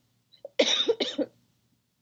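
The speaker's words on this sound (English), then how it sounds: "Sorry, I keep coughing." A person coughs in a short burst of two or three harsh, close hacks with a faint throat sound just before, otherwise quiet in an indoor setting.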